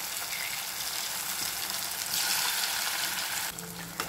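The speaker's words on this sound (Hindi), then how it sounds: "ये पठोरी हमारी अच्छे से फ्राई हो गई है" Moong pathori frying in hot oil, a steady close sizzle and bubbling hiss that swells briefly midway and settles again near the end, with no voices.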